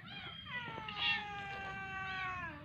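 A stray cat at a market gives a long, drawn-out meow that rises and falls in pitch, followed by a second plaintive cry, fairly close and alone over faint background noise.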